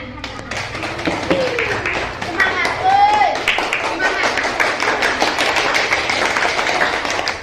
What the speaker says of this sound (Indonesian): Mari kita tepuk tangan ya.